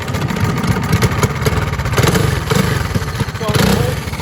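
A go-kart engine at a racing track is held at full throttle, making a loud, close, continuous buzzing drone that barely changes over the few seconds.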